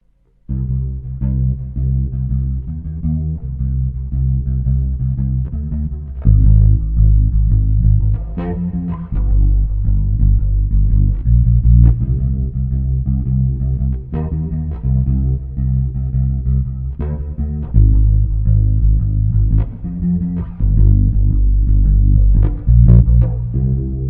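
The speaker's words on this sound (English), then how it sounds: "let's start by trying out some chorus into hall style reverb" Bass guitar played through a chorus into hall-style reverb effects unit, an 80s-flavoured tone, with sustained low notes and rhythmic plucked phrases continuing steadily and loudly throughout, no voices.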